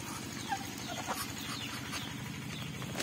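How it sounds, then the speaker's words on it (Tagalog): Pet ducks kept in a rural backyard, with a few faint, scattered quacks and calls over a steady low farmyard hum, no voices. "Yan, tatlo namin ilagang pato."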